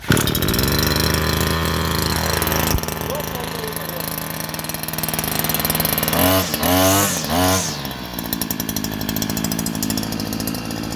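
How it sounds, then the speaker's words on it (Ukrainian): A small two-stroke Stark petrol brush cutter engine drones steadily close by, with a brief sputter and pitch wobble midway before settling back into a loud idle. "Потім відкриваємо заслінку і пробуємо заводити."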